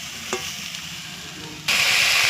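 Taro stolons (kochur loti) fry and are stirred in a pan: a soft background hiss with a faint scrape, then a sudden loud, steady sizzle fills the last second.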